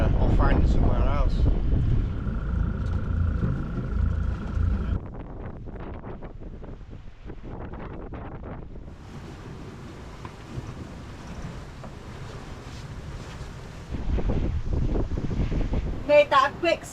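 Steady wind rushes and buffets a sailboat cruising off the Isle of Skye in Scotland, a constant broadband roar with water noise under it, strongest at the start and end.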